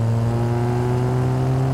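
A fuel-injected Triumph TR6 engine runs with a steady, strong droning hum, loud and close, holding an even pitch through a brief stretch with no talking.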